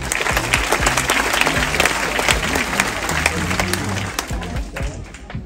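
Applause rises from the audience as crew members are introduced during a cruise ship gala evening, dense steady clapping filling the room, with a voice talking over it.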